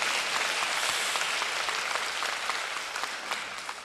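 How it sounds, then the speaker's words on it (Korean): During a Sunday church service, the congregation breaks into big applause for the choir, a thick, continuous patter of clapping from many people that stays full and steady throughout. "박수로, 큰 박수로"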